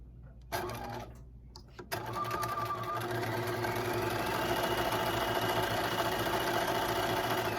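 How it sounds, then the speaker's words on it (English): Sewing machine stitching a 5/8 seam on fleece lining for a pullover, a couple of short starts then a steady, close, continuous whirring run of stitching. "you're going to stitch a 5/8 seam on the unnotched edge"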